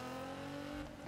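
A tuned 1154 bhp 2017 Nissan GT-R in Need for Speed revs hard, its steady, loud engine drone shifting slightly near the end as it changes gear.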